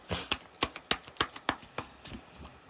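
Tarot cards handled and flipped to reveal the last card: a quick series of about nine crisp, close papery snaps and riffles in a steady rhythm, with no voice.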